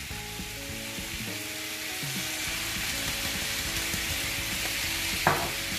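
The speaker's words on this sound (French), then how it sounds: "Et on mélange." Spiced food with garlic, pepper and paprika fries in a pan, a soft steady sizzle with faint stirring scrapes and one brief clatter near the end, quiet and without talk.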